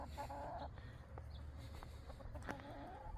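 Chickens cluck softly in a cold farmyard on an October morning, a few scattered clucks and calls over a low steady background hum, with no talking.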